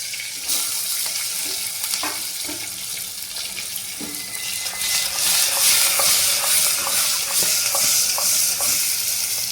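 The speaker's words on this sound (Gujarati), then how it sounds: "આપણે સીધું વઘાર હિંગ નાખીને મૂકી દેવાનું" Asafoetida tempering sizzling in hot oil in a pan for a Gujarati stuffed brinjal and potato curry, a steady close crackle with scattered pops and clicks that grows louder and brighter partway through.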